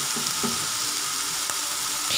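Beetroot for halwa sautés in ghee in a pan, giving a loud, close, continuous sizzle with a few soft scraping touches from stirring.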